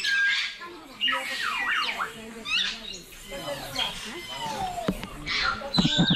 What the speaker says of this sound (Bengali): এটি হচ্ছে আফ্রিকান গ্রে প্যারট।